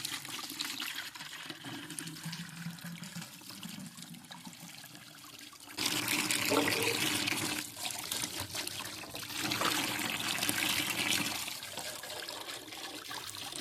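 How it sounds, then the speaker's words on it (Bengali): Drinking water runs from a tap into bottles and buckets, a steady close splashing trickle that turns louder and fuller partway through as the flow strengthens. "এরপর আমি জল ভরে নিচ্ছি, খাবার জল বোতলে বালতিতে।"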